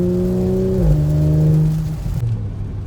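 Audi RS4 B9 engine revved hard in dynamic mode, loud and close, its pitch dropping after the first second, holding briefly, then fading out. No one speaks.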